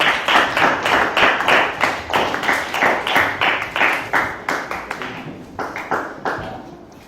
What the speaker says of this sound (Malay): bagus, bagi tepukan